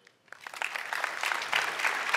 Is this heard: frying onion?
no